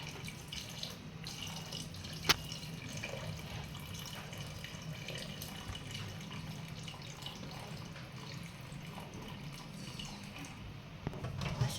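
Water from cooked crabs is strained and poured off in a home kitchen, a soft steady trickle and splash running throughout, with one sharp clink of a utensil partway through and no talk.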